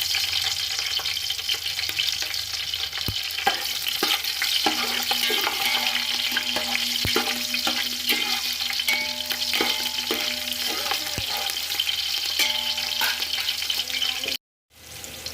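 Slit green chillies sizzle steadily in hot oil with fried spices, a continuous loud crackling hiss with occasional clinks of a utensil against the pan, stopping abruptly near the end.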